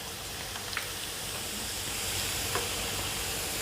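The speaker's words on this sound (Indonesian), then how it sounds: "Ini cabainya juga digoreng sampai kering ya" Red chilies frying in hot oil until dry give off a dense, even sizzle and crackle that holds steady throughout, close up, with a few faint pops and no voices.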